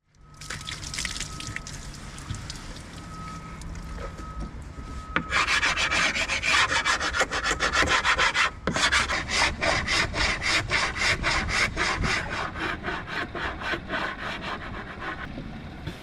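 A hand saw cuts through the end of a wooden plug while restoring a boat, steady close rasping strokes that grow faster and more rhythmic as the cut goes on, with no talk.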